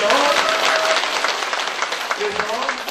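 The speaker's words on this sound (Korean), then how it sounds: "우리 수고하신 전혀 중요한 분들 박수 한번 드리세요." Dense audience applause fills a book launch ceremony hall, steady and loud for the whole stretch with no break, while a voice speaks faintly underneath.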